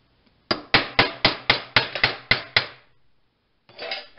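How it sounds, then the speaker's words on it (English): A metal rod smacks a stuck motor part on a homemade rubber band gun: eight sharp, ringing metallic blows in a quick even rhythm, close and loud, then a pause and a softer scrape. "Just get yourself a metal rod and give it a good smacking."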